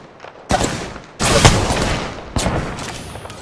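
Three close bursts of gunfire in Apex Legends, sharp cracks followed by rattling automatic shots, the middle burst the longest and loudest, with short pauses between them.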